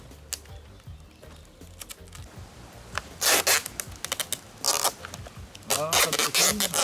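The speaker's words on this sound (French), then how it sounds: "Voilà, hop, avec le scotch d'emballage." Packing tape is pulled off a roll in loud ripping bursts and pressed onto a cardboard target, mixed with scraping and handling noises and quiet talk.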